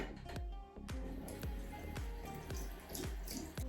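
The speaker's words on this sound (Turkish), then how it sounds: "Öncelikle kullanmadan hemen bunun suyun altına geçireceğim." Running water from a tap splashes over a face brush held beneath it, giving a close, quiet, steady flow broken by regular dripping plops about every half second, with no talking.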